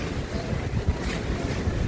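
Strong wind blows steadily outdoors in a continuous, rumbling roar buffeting the microphone, with no voices.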